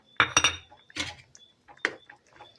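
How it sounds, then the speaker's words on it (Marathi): A spoon scrapes and clinks against a pan while crushed peanuts are stirred into cooked okra curry, a few irregular close knocks and scrapes separated by short pauses. "आणि हलवून थोडा घ्यायचं आणि 2 मिनटं मंद गॅसवर ठेवायची आपल्याला ही भाजी."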